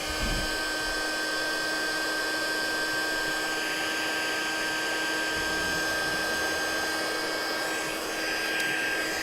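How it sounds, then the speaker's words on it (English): A heat embossing heat tool blowing continuously, a steady close whirring hum of fan and hot air with an even tone throughout, no speech. "And we will take our heat tool and heat that up."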